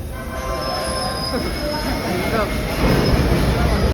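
A train rumbles close by at a railway station with loud, steady wheel noise and high metallic squealing from the rails, faint voices in the background.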